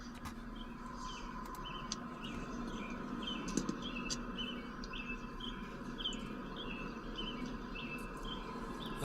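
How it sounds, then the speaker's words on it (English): Birds chirp in the background by a river, repeated faint tweets over a steady low rush of water and ambient noise. "I like hearing the birds in the background."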